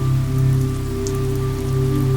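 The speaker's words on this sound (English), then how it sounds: "the rain still pelting against the windows" Steady rain pelts against the windows of a quiet bar, a dense continuous patter with a low constant hum beneath it, close and fairly loud with no voices.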